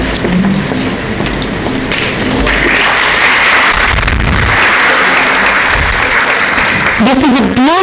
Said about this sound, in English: I think we need better applause